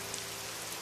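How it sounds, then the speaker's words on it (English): Soft, steady rain falls as a faint continuous hiss with no distinct drops or voices, brief and quiet throughout. "the rain adds its voice to this quiet symphony"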